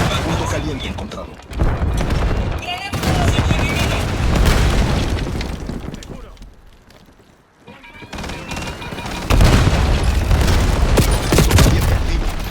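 Call of Duty Warzone combat erupts in heavy booms and bursts of gunfire, loud and near, with a brief quieter lull midway before the blasts resume, while a voice speaks over it.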